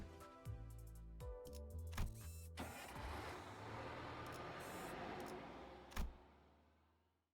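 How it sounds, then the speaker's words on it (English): Ominous metallic bell tolling in Limbus Company: sharp clanging strikes with long ringing tails, swelling into a dense roaring wash and a final loud hit before fading out. "The tolling of bells."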